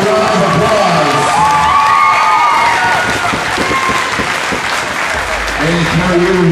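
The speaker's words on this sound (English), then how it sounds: "Let's give these two a hell of a round of applause." Audience at an American Elite Cagefighting event applauds and cheers for two cage fighters, a loud sustained wash of clapping with whoops, while an announcer's voice carries over the crowd.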